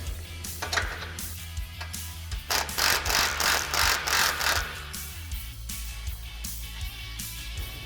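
Bursts of a power tool ratcheting and rattling while frame bolts are removed on a Polaris RZR Pro XP, repeated in short pulses over a low mechanical hum.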